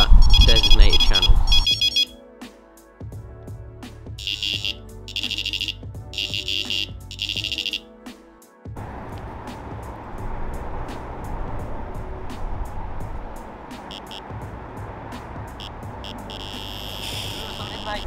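A Sonik Gizmo fishing bite alarm sounds in loud, rapid electronic beeping bursts with clipped repeated tones at shifting pitches, then gives way to steady outdoor hiss with a few faint tones.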